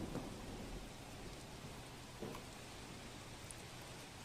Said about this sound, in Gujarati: આપ જુઓ સતત વરસાદ વરસી રહ્યો છે